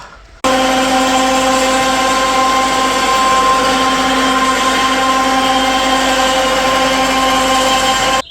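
A hoist raises a finished van roof rack into position inside a garage, giving off a loud, steady mechanical hum with a tonal whine that runs unbroken for about eight seconds, then cuts off.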